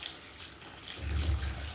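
Water pours from a tap into a cooking pan of drumstick soup: a soft, hissing trickle that turns into a louder, low gushing fill during the second half.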